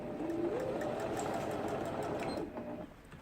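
A Singer T6900 110V sewing machine, bought in Japan, runs after repair. It gives a steady, soft mechanical whirring that winds down and stops near the end.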